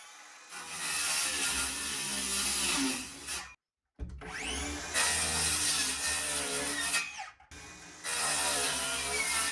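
A saw cutting notches into wooden cabin framing for a ledger board: three loud, close bursts of whining, buzzing cutting, separated by brief silences, with no talk.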